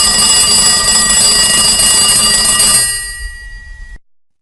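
A landline-style telephone rings steadily and loudly while a call is placed to an airport, the tone holding for about three seconds before fading and cutting off, with no voices present.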